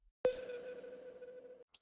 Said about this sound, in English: there's this little sine wave beat. It has reverb and an amp on it.